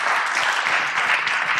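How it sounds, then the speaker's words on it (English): A brief burst of steady audience applause at a blockchain technology conference talk, many hands clapping at an even level. "Round of applause."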